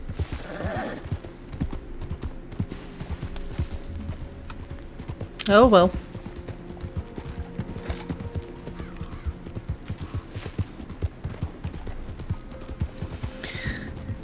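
Rhythmic clip-clop of a horse's hooves running steadily throughout in the video game Red Dead Redemption 2, with a brief louder burst midway and a voice speaking briefly.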